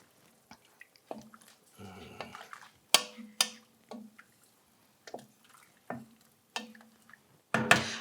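Mushrooms tipped into a pot of turkey soup brought to a simmer, with scattered soft plops, drips and stirring clatter, a brief bubbling rush midway and a louder splash at the end, with no talking.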